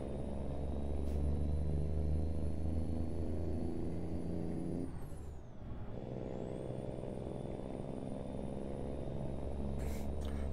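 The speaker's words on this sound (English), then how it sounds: "God, it's a bloody loud truck" Heavy truck engine in American Truck Simulator, a loud steady diesel drone and rumble with a constant high whine, briefly dipping mid-clip as if shifting gears, then resuming.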